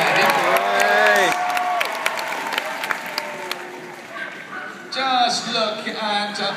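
A crowd cheers and applauds at the Crufts small dog team agility final, with bursts of whooping and clapping that rise and fall, under an excited commentator's voice.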